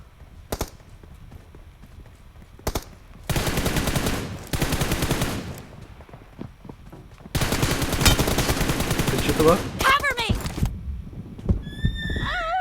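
Gunfire in the PUBG Mobile shooter game, two long bursts of rapid automatic fire plus a few single shots, loud and close, mixed with other game sounds and someone talking in between.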